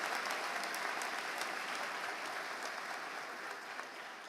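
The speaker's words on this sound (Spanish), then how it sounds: "Fuerte el aplauso en representación de los Estados Unidos" Steady, dense applause from an audience at an international missionary work congress of IEAD 248 in Oberá, Misiones, sustained throughout at moderate distance and slowly easing in level, with no speech.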